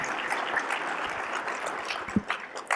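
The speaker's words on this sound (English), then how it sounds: "So a round of applause for our communications team." Audience applause in a conference hall at a transit industry general session, a dense wash of clapping held steady for under three seconds with a few sharper claps near the end.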